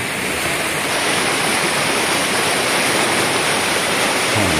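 Water rushes out of a tiger prawn pond into a river, a loud, steady broadband roar that continues unbroken throughout.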